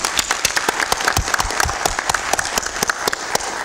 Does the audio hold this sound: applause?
yes